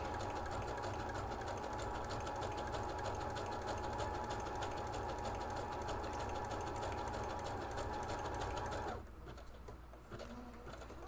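A sewing machine stitches along the edge of a quilt, a loud, close, steady whirring drone of rapid needle strokes that runs unbroken, then cuts off near the end, leaving quieter room sound.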